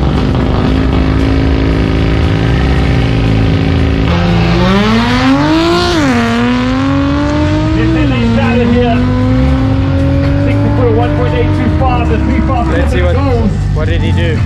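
An Audi RS3 with four-wheel drive launches at a South African drag race, its engine roaring close and loud with rising revs and gear changes, while commentators talk over it.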